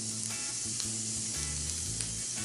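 Hot honey-roasted carrots with garlic fresh from the oven sizzle and crackle steadily, a constant close hiss with faint clinks mixed in and no talking.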